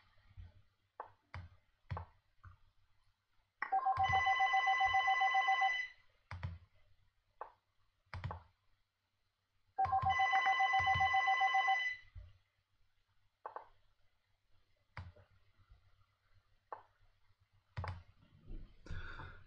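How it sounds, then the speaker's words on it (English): A telephone rings in two long electronic trilling bursts, each about two seconds, amid intermittent mouse or keyboard clicks in a quiet room. "The phone's ringing."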